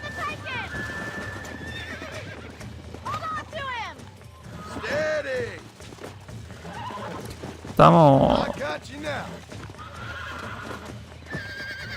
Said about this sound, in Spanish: Están enojados los caballos estos.